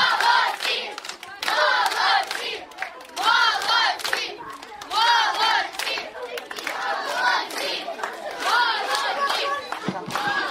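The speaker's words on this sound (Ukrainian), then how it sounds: "Оплески, оплески, всі підтримують." Children at a summer holiday camp applaud and cheer in repeated loud bursts, with clapping mixed with shouting and lively crowd voices throughout.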